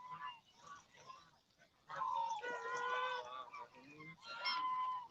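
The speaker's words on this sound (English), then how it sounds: "Lots and lots of geese and ducks in this area." Wild geese and ducks honk loudly and repeatedly at close range by a pond on a sunrise walk at Qujiang Chi in Xi'an, the calls coming in overlapping nasal bursts after a quieter opening.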